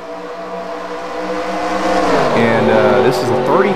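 Race cars in the Carsland Cup Series video game at Atlanta run three wide, their engines droning loudly and steadily before rising in pitch, with a brief tire squeal near the end.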